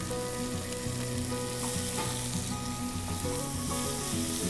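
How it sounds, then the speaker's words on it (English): Onions sweat in rendered bacon fat in a pan after the bacon has crisped, a close, constant sizzle with faint music underneath and no talking. "we're going to add in the onions and sweat those out a little bit"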